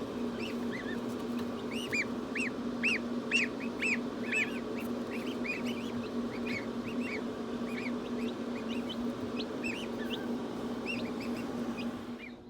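Newly hatched goslings in an incubator give a steady stream of high, thin peeping calls, many overlapping chirps repeating close by over a constant low humming drone.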